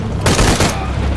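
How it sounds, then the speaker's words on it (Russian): A short burst of gunfire in Shadow of the Tomb Raider, one loud, close, booming volley with a brief echoing tail over a rumbling game background. "Я слышу выстрелы."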